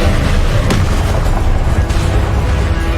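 An Incendio fire spell cast in Hogwarts Legacy during a fast duel unleashes a loud, sustained whooshing roar of flame, with booming bursts and sharp cracks mixed into the dense blast.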